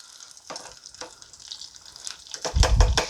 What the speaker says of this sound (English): we're just going to fry the other side